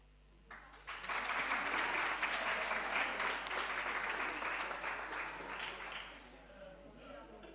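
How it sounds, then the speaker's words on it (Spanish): A hall audience at a short-story contest prize ceremony bursts into loud, dense applause for the third-prize winner, holding steady for several seconds before tapering off. "Un aplauso para el tercer premio de Elías Arroyo Hondo."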